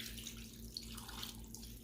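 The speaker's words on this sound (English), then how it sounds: "So I'm just going to add some water to the top of this." Water pours steadily into a pot while homemade chicken broth is being made, a continuous faint splashing flow like a running tap, quiet and close, with no talking.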